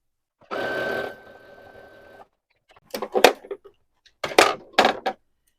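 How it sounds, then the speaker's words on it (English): A sewing machine runs in one steady burst of about a second and a half, stitching down the side of fabric strips for a scrappy quilt. Separate clicks and handling thumps follow after it stops. "I'm going to sew down the left-hand side of this"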